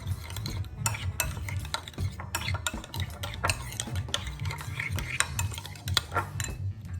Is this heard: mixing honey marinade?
yes